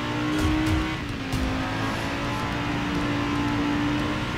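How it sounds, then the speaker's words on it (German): A Range Rover tears along at high speed in the Driver San Francisco racing game, its engine a steady, strained drone with a brief surge near the start, loud and continuous throughout. "Ey, seit wann kann ein Range Rover so schnell fahren?"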